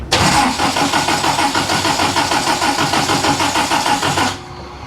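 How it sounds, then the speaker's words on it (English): A car engine cranking over without catching, the starter motor churning in a fast, steady rhythmic whirr, loud and close for about four seconds before cutting off abruptly. "We don't want the car to start, but it should turn over."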